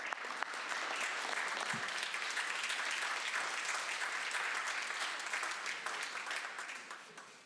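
Sustained applause from a room of people in a state Senate chamber during a floor tribute, a dense even clapping that holds for several seconds before tapering off at the end.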